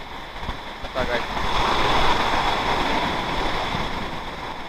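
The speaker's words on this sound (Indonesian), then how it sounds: "Basah kena ombak." Ocean waves wash and surge against the shore of an uninhabited island, a steady broadband roar with wind noise on the microphone, rising slightly after the first second and holding at a close, moderately loud level.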